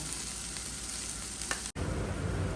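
Onions sauté with masala in a pan for a beef dish, giving a steady, close sizzle with faint stirring, broken by a very short dropout partway through.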